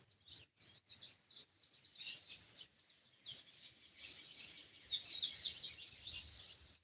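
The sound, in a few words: birds singing on a Saturday afternoon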